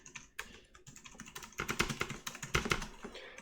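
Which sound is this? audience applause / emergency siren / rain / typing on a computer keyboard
typing on a computer keyboard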